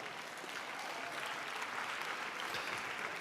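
A conference audience applauds the jury at an entrepreneurship event, a dense, steady wash of many hands clapping at moderate distance, sustained evenly for the whole stretch without voices.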